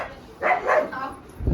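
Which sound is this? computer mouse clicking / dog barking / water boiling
dog barking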